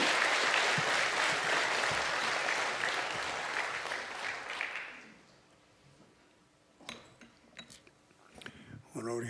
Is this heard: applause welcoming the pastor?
yes